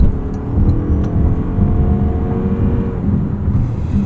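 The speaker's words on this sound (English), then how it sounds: "let's do an acceleration test here onto the highway" A 2026 Toyota RAV4 GR Sport accelerates onto a highway, its engine droning loudly from inside the cabin with steady road rumble and a faint rising whine throughout.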